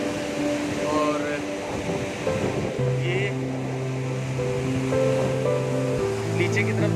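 The fast-flowing Pushpawati mountain river in the Valley of Flowers rushes with a steady, broad roar, while someone talks over it.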